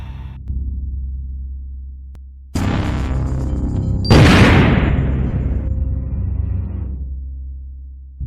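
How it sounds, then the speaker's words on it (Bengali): A cartoon missile strike erupts in an animated scene: a sudden burst at mid-clip followed by a louder, roaring explosion that swells and slowly fades over a low, steady hum. "ওকে মিসাইল মেরে এখনই উড়িয়ে দাও"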